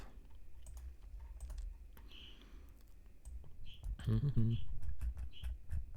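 A computer keyboard typed on in quick, soft clicking runs, fairly close, while someone talks over it.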